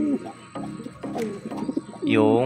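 Racing pigeons at a loft during race training in Tarlac, with close soft cooing and throaty calls repeating throughout; a person speaks in the background.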